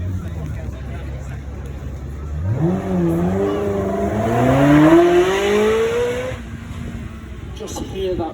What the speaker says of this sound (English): Just hear that beautiful howl from that mid-mounted V8 engine